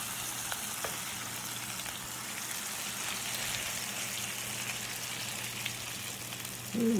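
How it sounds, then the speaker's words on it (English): Steady broadband sizzling from crawfish cornbread batter hitting a hot pan, a continuous crackling hiss throughout, with a brief clunk near the end. "Hear that sizzle?"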